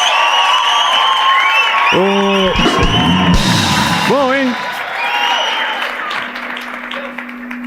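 A studio audience claps and cheers for a television host, a steady bed of applause with whoops and a loud shouted voice rising over it, and someone speaking briefly near the end.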